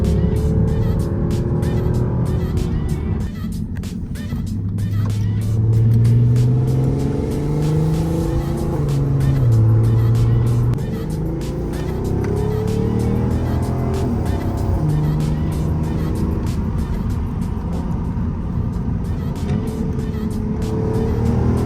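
An Audi TT mk2 3.2 drives along a winding Alpine mountain road, its engine note rising and falling through gear changes and bends, with loud continuous road and wind noise heard from inside the car.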